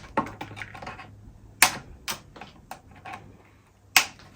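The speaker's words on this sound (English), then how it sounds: "We're just going to cut these with the nippers." Nippers snip trim from a clear Lexan RC car body, giving a few sharp, quiet clicks spaced irregularly over a few seconds, with faint handling noise and no talking.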